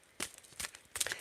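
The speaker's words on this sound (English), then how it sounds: "I'm just going to give them a little shuffle." Quiet, brisk riffling of a deck of large tarot cards, a few short bursts of flicking and slapping close by.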